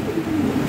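A white Lahori pigeon coos low and steady, close by, in one short continuous burst over a constant background murmur.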